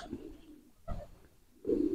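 Pigeon cooing during courtship, a few soft low coos in separate bursts near the end and middle, close by and fairly quiet, with no talking.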